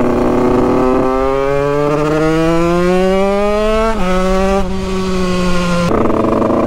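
A Yamaha DT 100cc motorcycle engine revs loudly and close up, its pitch climbing steadily, then dropping and surging again in short bursts.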